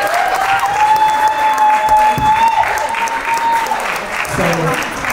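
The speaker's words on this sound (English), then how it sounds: "Give a hand clap for yourselves." A comedy show audience applauds loudly and steadily for the whole stretch, a dense wash of many hands with a few whistles and whoops riding over it.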